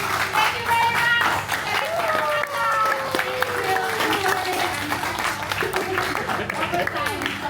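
An audience at a Toastmasters club meeting claps steadily throughout, a dense wash of applause with a voice speaking over it.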